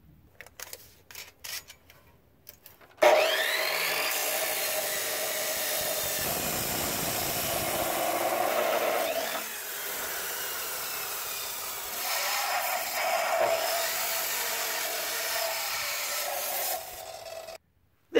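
Steel round bar and pipe for trailer hinges being cut with a power tool, a loud continuous grinding rasp running about fourteen seconds after a few quiet clicks, with slight shifts in pitch as the blade works through the metal.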